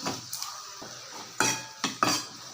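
Tomatoes being sautéed in a pan for a spicy garlic chutney: a few sharp clanks and scrapes of a spoon against the pan over a faint sizzle, close and brief, with no voices.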